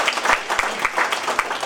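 An audience at a 2015 political talk show in Daegu claps in a brisk, dense burst of applause, close and lively with uneven peaks.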